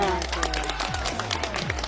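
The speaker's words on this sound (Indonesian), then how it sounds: "kasih tepuk tangan" An audience claps at a school literacy and numeracy event at SMPN 7 Pemulutan, with steady applause running under a voice and background music throughout.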